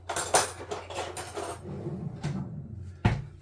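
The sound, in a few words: cutting into tinned roast potatoes with cutlery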